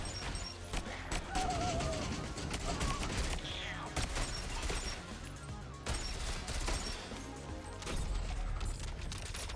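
Dense, faint bursts of gunfire and grenade blasts in the video game SENTRY, a chaotic continuous barrage with clattering impacts.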